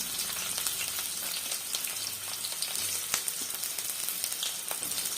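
Onions with garam masala sizzle in hot oil in a pan, a steady, dense, close frying hiss with small pops and no voices.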